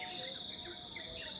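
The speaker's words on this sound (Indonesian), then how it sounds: "saat ini cuma kita bisa mendengar suara kicau burung terucukan dan burung kutilang ya" Trucukan and kutilang bulbuls sing in the morning with faint, short warbled chirps repeating a few times over a steady, thin insect drone, distant and quiet.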